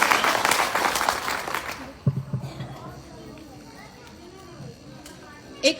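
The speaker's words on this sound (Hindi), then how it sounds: "लगा होगा तो ताली बजा दे" An audience at a song performance claps in a loud, dense burst that stops abruptly after nearly two seconds, leaving faint murmuring voices and a few scattered knocks.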